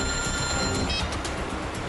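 An incoming call on a telephone rings continuously and loudly, a dense electronic ringing that fills the whole stretch without pause.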